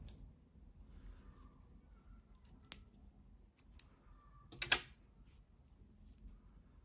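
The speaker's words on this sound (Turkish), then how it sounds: "İpliği kesiyorum." A pair of scissors snips through knitting yarn while finishing a knitted dress collar, giving a few quiet close clicks, with one sharper cut standing out near the end.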